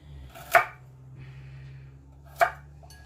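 Knife slicing radishes into pieces on a cutting board, two crisp separate chops about two seconds apart, close and clear against a quiet low background hum.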